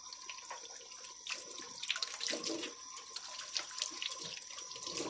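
Hands lathered with homemade baking soda soap washing under a running tap, steady close splashing water with soft rubbing and dripping over the constant flow.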